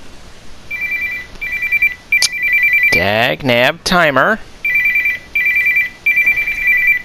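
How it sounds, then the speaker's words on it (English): An electronic phone rings in repeated short bursts during gameplay in Resident Evil 5, with someone talking over the middle of the ringing before the rings carry on alone. "Phone call."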